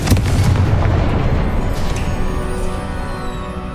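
A Confringo blasting spell explodes in the Hogwarts Legacy video game: a loud, booming burst that rolls into a sustained rumbling roar and fades slowly over a few seconds.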